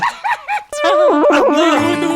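A dog in a comedy film scene gives three quick yelping barks, then lets out a long, loud whimpering howl that wavers in pitch close to the listener.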